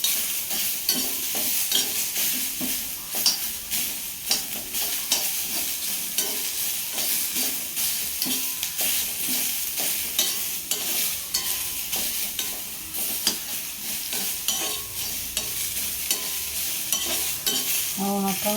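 Onions sautéing in a pan for a Malabar spinach (ponnanganni) and rice meal, giving a steady, close sizzle with frequent clicks and scrapes of stirring throughout, with no voices.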